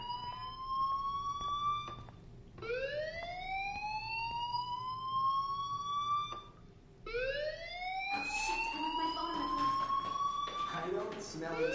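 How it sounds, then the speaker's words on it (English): A fire alarm in the video game Life is Strange wails in rising, siren-like sweeps, three long upward glides repeating loudly, with other game noise building near the end. "do you hear that fire alarm? That means you should be outside."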